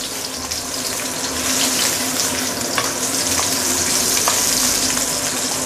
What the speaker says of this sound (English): we want to saute our ginger first